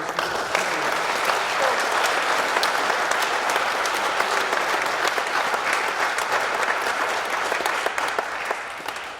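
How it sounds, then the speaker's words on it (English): Audience applause at an underclassmen awards ceremony, a steady dense wash of many hands clapping that holds loud and even throughout, easing slightly toward the end. "applause for all of this"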